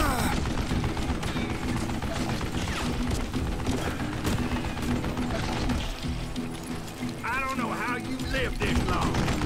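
A Wild West shootout in Call of Juarez Gunslinger, with constant loud gunshots and clattering action sounds layered over music and effects, with speech mixed in.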